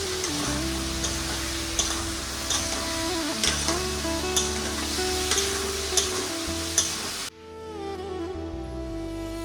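Pabda and rui fish frying in a pan of oil, a continuous loud sizzle with faint ticking crackles and a steady tonal background, dropping abruptly to a quieter level near the end.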